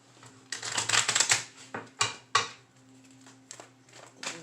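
Tarot cards riffle and flutter in quick bursts close up, followed by a few sharp snaps and taps, with no voices.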